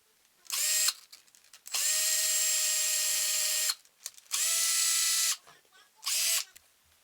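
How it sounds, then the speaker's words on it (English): A power drill boring holes for a bedroom DIY furniture project, heard as four loud, close whining bursts of varying length separated by short pauses. "now I'm going to take my drill and drill the holes in"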